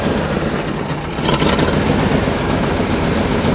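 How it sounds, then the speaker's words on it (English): A car engine starts up and runs steadily close by, with a knocking that worsens at speed and uphill, roughening into a dense, continuous rumble with no one talking. "let me start the engine and show you what it sounds like"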